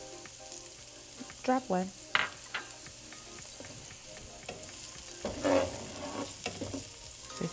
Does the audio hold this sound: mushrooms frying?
yes